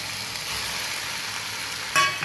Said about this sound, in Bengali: এবার এটাকে ভালো করে মিক্স করে নেব